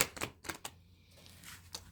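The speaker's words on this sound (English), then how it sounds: "I'm going to shuffle one time and I'm going to pull a card out of the middle" A deck of tarot cards is shuffled once by hand, giving a few quick, close, papery clicks and riffles with short pauses between bursts, fairly quiet and without talk.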